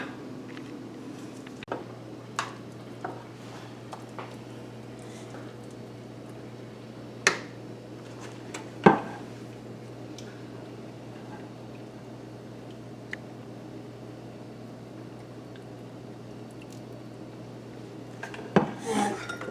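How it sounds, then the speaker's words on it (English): Sporadic clinks of a ladle against a dish and plate while Swiss steak gravy from a crock pot is spooned out, faint and spaced apart over a steady low hum, without any talking. "I'm going to ladle this over that and show you our Swiss steak."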